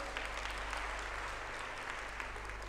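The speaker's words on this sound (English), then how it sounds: "Can we give that a round of applause?" An audience at a closing plenary session applauds runners-up, a faint, even patter of clapping heard from a distance over a low steady hum.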